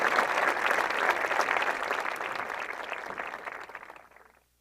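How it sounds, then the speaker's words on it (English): Sustained applause from a graduation audience at a high school ceremony, a dense steady clapping that carries on for several seconds before tapering off and stopping abruptly. "Please give these students a round of applause for their accomplishment."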